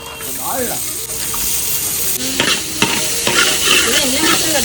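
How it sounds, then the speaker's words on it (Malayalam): Ginger and chopped shallots fry in a pan while being stirred, giving a loud, close, continuous sizzle broken by scraping stirs. "നമ്മൾ കുറച്ച് ഇഞ്ചി ചേർത്ത് കൊടുക്കുവാണ് കേട്ടോ പിന്നെ നമ്മൾ കുറച്ച് ചെറിയുള്ളി ചെറിയുള്ളി അരിഞ്ഞ് ഇട്ട് കൊടുക്കുന്നുണ്ട്"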